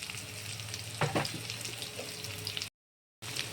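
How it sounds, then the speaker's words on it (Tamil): Onion and green chillies fry in a pan for prawn curry, a steady close sizzle with a brief burst of stirring scrapes near the start and a short gap of silence before the frying resumes. "ஒரு வெங்காயம் நறுக்கி வச்சுருக்கேன், அதை போட்டுக்கிறேன். வெங்காயம் வதங்கட்டும்."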